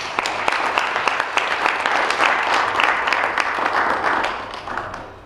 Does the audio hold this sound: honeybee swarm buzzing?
no